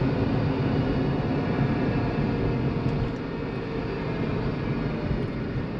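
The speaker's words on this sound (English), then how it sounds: "I think that gives you a little bit more of an example of what it sounds like at higher RPMs." A Porsche 911 Carrera engine held at high RPM gives a loud, dense, steady roar that fills the whole clip and dips slightly partway through.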